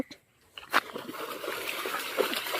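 A golden retriever paddling in shallow seawater: a sharp splash, then steady sloshing and churning water that continues to the end.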